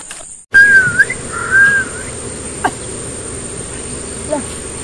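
A bird call in a forest, two clear whistled chirps close together near the start, then faint scattered ticks and chirps over a steady insect hum and quiet background.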